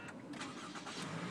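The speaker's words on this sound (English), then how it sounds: "Push button start in this guy." A 2015 Toyota Camry XSE engine starts by push button, giving a brief crank that settles into a steady, moderately loud idle heard alone.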